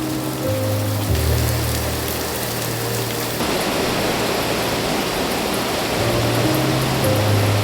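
Heavy rain pouring at about four inches an hour, a dense, loud, steady roar of falling water with low tonal hums in the background.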